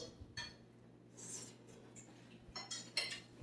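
A fork scrapes and clinks against a plate of haluski with cabbage and sausage, a few separate close metallic taps and scrapes over near silence.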